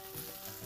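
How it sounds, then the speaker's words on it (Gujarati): Chili, soy, Schezwan sauce and ketchup sizzling in a pan over a high flame, a brief faint steady hiss. "ફ્લેમ જે છે એકદમ ફાસ્ટ રાખું છું એટલે બધું પ્રોપર સીઝલ થાય"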